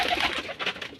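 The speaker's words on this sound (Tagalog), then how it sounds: "Pag uwi natin yung ibon natin nandito na, ayan siya." A racing pigeon coos in a steady run of soft, throaty calls, close by and loud enough to stand alone with no talk over it.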